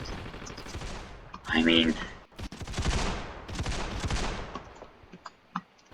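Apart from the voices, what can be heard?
gunfire in the video game Ravenfield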